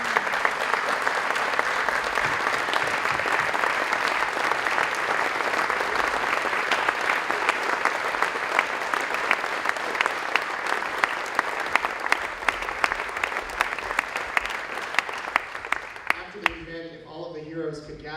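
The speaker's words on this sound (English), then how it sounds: "let's give them one more round of applause" A crowd applauds steadily for honored local heroes at a Red Cross awards event in East Idaho, dense clapping holding for most of the stretch before tapering off as a voice begins speaking near the end.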